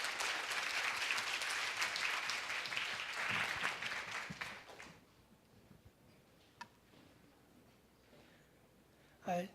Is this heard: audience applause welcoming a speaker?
yes